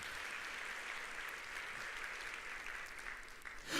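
A church congregation claps together during a Wednesday evening service, a steady wash of applause from many hands that holds at even loudness and swells slightly at the very end.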